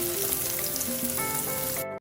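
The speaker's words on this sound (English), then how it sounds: "I am now adding the onions and garlic, and I'm going to fry this until it is nice and fragrant" Onions and garlic fry in melted coconut oil for Jamaican coconut curry shrimp, giving a steady close sizzle with faint tonal hum behind it before the sound cuts off abruptly.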